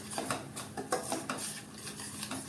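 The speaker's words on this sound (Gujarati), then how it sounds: "ગેસ ઉપર સુખડી માટેનો લોટ પણ શેકાઈ રહ્યો છે" Flour for sukhdi roasting in a pan on a gas stove, with a utensil scraping and clinking against the pan in a steady stirring rhythm, close and fairly quiet, no talk.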